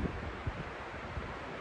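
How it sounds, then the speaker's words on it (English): Wind sweeping across open Dartmoor moorland beside a forest edge in April, a steady rushing hiss with low buffeting gusts against the microphone, fairly loud and continuous with no voices. "you can probably tell it's fairly windy"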